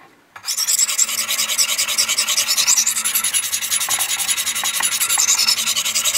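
Knife blade sharpened freehand on a fine grit stone, a rapid steady rhythm of gritty scraping strokes, close and continuous after a brief quiet start.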